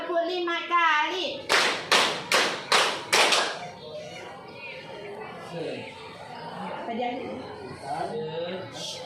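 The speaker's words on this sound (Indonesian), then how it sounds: "tepuk 5 kali" During a classroom warm-up before a science lesson, hands clap five times in a brisk, evenly spaced burst, loud and close. A speaking voice follows, along with a soft chuckle.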